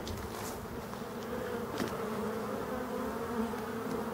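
Black honeybees swarm around hives being opened in Brittany during an ivy and phacelia nectar flow in September, a dense continuous buzzing hum that holds steady and close throughout, with no talking.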